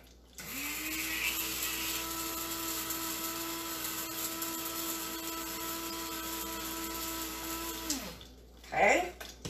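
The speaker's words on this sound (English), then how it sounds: "Grind away." Small electric grinder whirring through seasoning for a spicy Asian fried seabass dish, a steady close motor drone for about eight seconds that stops abruptly, followed by a brief rattle and some handling noise.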